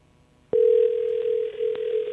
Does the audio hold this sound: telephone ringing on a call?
yes